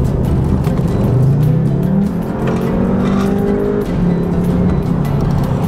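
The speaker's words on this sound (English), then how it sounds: "It accelerates and moves extremely quick going through the gears" A 2018 VW Jetta GLI with a DSG transmission accelerates hard through the gears, its engine note rising and dropping at each quick shift, loud and close throughout with no talking.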